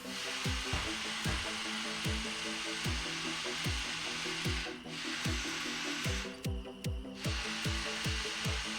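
A steam locomotive in the train game Derail Valley vents its blowdown, a steady, close broadband hiss that rises and falls over rhythmic exhaust chuffs, with the hiss briefly thinning twice.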